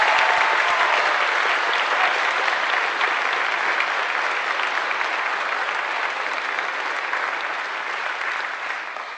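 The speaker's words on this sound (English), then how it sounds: "Let us show them our appreciation with a round of applause" A graduation audience at Portland State breaks into loud, sustained applause, a dense wash of many clapping hands that carries on for about nine seconds and tapers slightly at the end.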